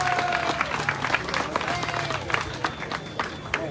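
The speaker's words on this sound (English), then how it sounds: "can you please give them a big round of applause" An awards-ceremony audience breaks into a round of applause, dense overlapping hand claps filling the room at moderate volume, with some voices mixed into the crowd.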